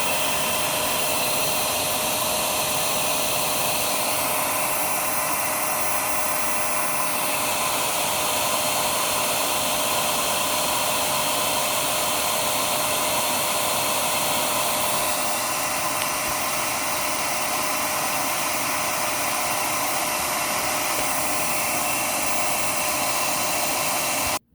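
A Dyson DC39 vacuum cleaner runs steadily throughout, a loud continuous whooshing roar of airflow at the base of the machine with slight shifts in pitch and no talking.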